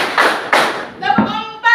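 A teacher leads a class in a rhythmic hand-clapping counting game: two sharp, close claps ring out, then a voice speaks.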